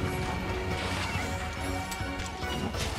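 Long Sword helm breaker attack landing in the video game Monster Hunter Rise, fought against Mizutsune: a dense, loud crashing impact with layered whooshes and clattering effects, continuous and without speech.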